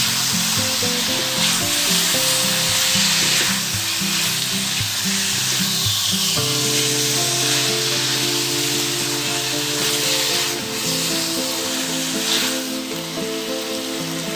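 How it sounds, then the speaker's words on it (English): Pork for adobo sautés over a high flame, its fat rendering in a loud, constant sizzle and hiss, with background music playing throughout. "Continue to sauté on high flame setting, and let the fat render."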